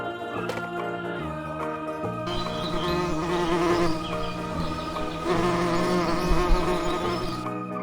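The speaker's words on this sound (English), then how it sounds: "Nice bee, big bee." A big bee buzzes continuously in a steady, fairly close drone that swells in the middle, with background music running underneath.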